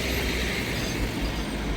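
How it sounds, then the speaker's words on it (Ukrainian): A modern tram rolls past a French-era cathedral in Rabat, Morocco, giving a steady, fairly loud rumble of wheels and rail noise with a broad hiss throughout and no speech. "Ой, трамвайчик їде біля собору."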